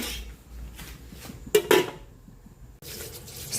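A metal lid clanks onto a cooking pot of ginisang munggo in a home kitchen: two sharp, close knocks in quick succession, with quieter stirring and clatter around them.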